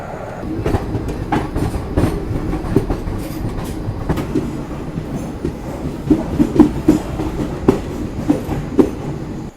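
Inside a sleeper coach of the Himsagar Express, rolling steadily with a low continuous rumble and rhythmic clickety-clack of wheels over rail joints, loud and close, with occasional sharper knocks.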